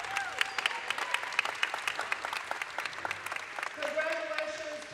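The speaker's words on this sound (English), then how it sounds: "Give these two teams a round of applause." A crowd at a boys district championship basketball game applauds both teams after the final, steady clapping with scattered cheers, fairly close and filling the room, with a voice over the public address near the end.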